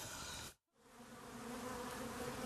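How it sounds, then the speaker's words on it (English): Honey bees at a hive by a Roman fort swarm in a dense, steady buzz, loud and close, with a brief drop to near silence early on before the humming swells back and holds. "The sound of a happy hive. Thousands of bees coming and going every few minutes"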